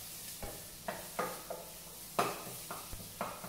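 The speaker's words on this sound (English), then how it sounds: "So we're going to lightly saute that around." Garlic, shallots and a bay leaf sautéing in blended oil in a pan, with a soft sizzle punctuated by repeated scraping stirs and light clanks of the utensil at a steady, unhurried rhythm, close by.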